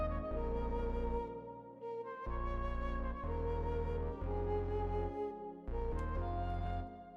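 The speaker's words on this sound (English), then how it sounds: "we basically have some pads playing the chords I showed you in the beginning" Lush sustained synth pads play dense, thick chords with suspended harmonies that change every second or so, smooth and full, with no voices.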